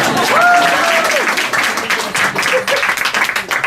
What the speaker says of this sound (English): you're supposed to applaud every time I hold it